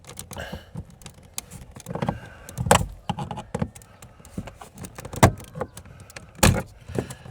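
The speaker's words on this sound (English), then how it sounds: "Get under here and pry this up." A tool prying up the power window switch panel on a Chevy Silverado door, with scattered plastic clicks, scrapes and creaks and a few louder snaps as clips let go, close and irregular.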